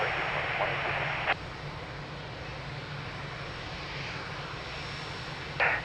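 An airplane taxiing at Lisbon Airport gives off a steady, fairly close engine roar that holds for the whole stretch, with brief surges in the hiss near the start and end.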